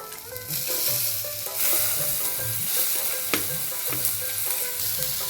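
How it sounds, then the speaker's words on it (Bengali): Vegetables sizzling in hot oil with garlic, onion, ginger, cinnamon, cardamom, cloves and black pepper, a loud close crackle with repeated rhythmic stirring scrapes of a spoon against the pan. "তেলটা গরম হয়ে গেছে এখন দেওয়া দিব রাখা সবজিটা দেওয়া দিব"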